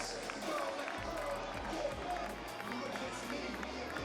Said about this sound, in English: Make some noise, Madison. Let's cheer them on.